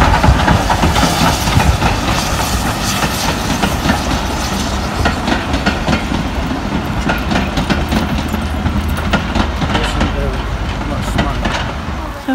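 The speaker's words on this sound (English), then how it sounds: "Steam train." A steam train passes in Dorset, rumbling with continuous clattering and rushing noise, loud and steady throughout, with wind buffeting the microphone.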